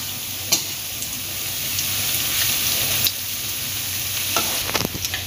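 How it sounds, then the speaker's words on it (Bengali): Papaya fritters frying in oil in a pan, making a steady, close sizzle with a few soft clicks and taps as they are turned. "এবার এই বড়াগুলো এক পিঠ হয়ে গেছে, উল্টে দেব আস্তে আস্তে করে, যাতে না ভেঙে যায় বড়াগুলো।"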